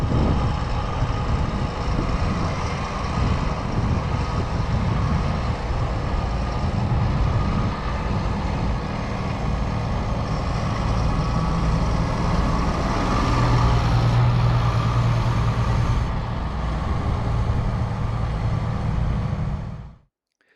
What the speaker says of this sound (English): We got 3 Deutz Fahr tractors running here.